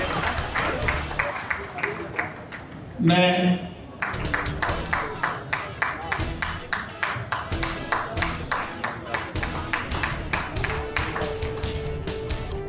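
Seminar audience in Vasant Kunj at an International Jat Day gathering clapping together in a rhythmic, even beat that continues most of the way, briefly interrupted by a loud voice over a microphone.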